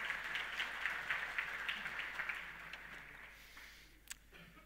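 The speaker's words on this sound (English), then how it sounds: "Can we have a massive round of applause" An audience at a technology conference breaking into applause, a wash of clapping that is fairly strong at first then thins and fades out over a few seconds, with a sharp knock near the end and no talk.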